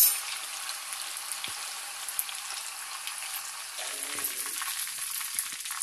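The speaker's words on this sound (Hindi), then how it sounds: "फ्राई होता है जल्दी" Pieces of chicken 65 fry in hot oil, a dense, even hiss of bubbling oil that holds steady, with a faint scrape near the end, up close and without speech.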